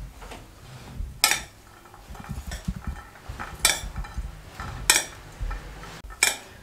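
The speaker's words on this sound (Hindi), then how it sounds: "अच्छे तरीके से सब चीज़ों को मिक्स कर लेंगे।" Spoon mixing chana chaat with chili powder and salt in a bowl, clinking and scraping in an irregular stirring rhythm, with a few sharp metal-on-dish clanks standing out, close and alone.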